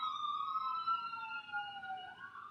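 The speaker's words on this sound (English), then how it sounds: "So I've got a siren coming here." Siren of a passing emergency vehicle, wailing steadily with sweeping up-and-down tones, fairly loud and continuous throughout with no talk over it.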